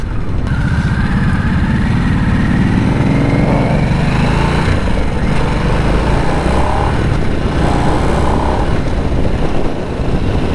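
A 2024 Harley-Davidson Nightster Special RH975S motorcycle with its Revolution engine on a demo ride, a loud, continuous engine drone with wind rush and shifting pitch, no talking.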